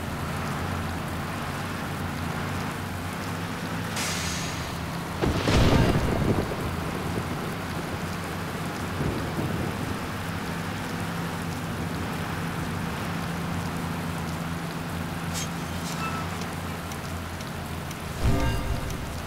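Rain and thunder in the bus-driving video game Bus Driver Gold, a steady patter of rain on a surface with a few brief louder rumbles and bursts of noise.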